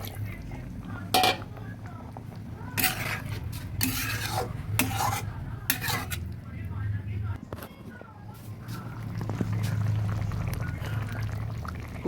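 Water poured into a cooking pan of Bengali vegetarian spiny gourd in mustard-poppy paste, with close scraping and clinks of a utensil against the pan and occasional talk over it.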